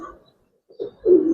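Giribaz pigeon of an old-generation line, held in hand, gives two short low coos close by, a brief one then a longer rolling one, with no talk over them.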